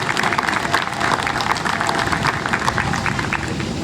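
An outdoor crowd at a 9/11 anniversary memorial in Levittown applauds police officers, a thick, sustained clatter of many hands at steady volume throughout.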